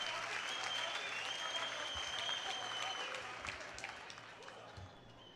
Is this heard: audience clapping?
yes